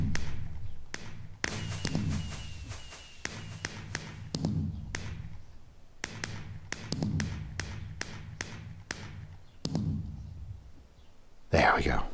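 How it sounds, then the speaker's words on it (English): A fireworks show goes off in the Minecraft video game, with a rapid string of sharp launch pops and booming bursts repeating for several seconds, and a louder crackle near the end. "Oh, I just triggered the fireworks."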